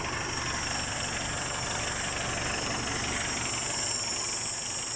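A tractor hauling a trailer loaded with timber idles steadily nearby, giving a constant low engine rumble with high-pitched whine, unbroken and without speech.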